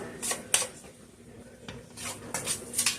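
Flour cooking in butter in a pan, quiet scraping and clinking of a utensil against the pan in short bursts, with a faint hum beneath and a brief lull midway.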